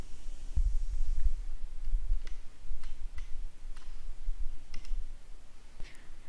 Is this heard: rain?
no